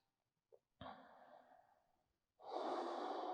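A yoga practitioner takes an audible breath, with a short soft exhale, then a longer breath that tapers off, followed by a strong, sustained exhale close to the mic.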